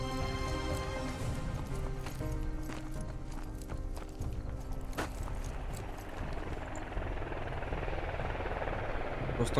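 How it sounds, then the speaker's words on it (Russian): A military helicopter in the video game Squad drones with a dense, rumbling rotor and engine roar that fills the whole stretch, steady and fairly loud, with scattered clatter over it. "прикольная раскраска вертолета"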